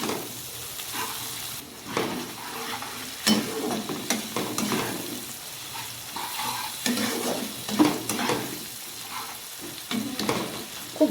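Mixed vegetables fry with chili powder for khichuri while a spatula scrapes and stirs the pan, giving a continuous close sizzle punctuated by repeated clattering strokes against the metal.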